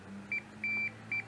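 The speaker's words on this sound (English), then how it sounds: "it beeps. So that means that fuse is good." A multimeter on its continuity setting beeps while testing a good fuse: three clean electronic tones, short, longer, short, over a faint low hum, with no voices.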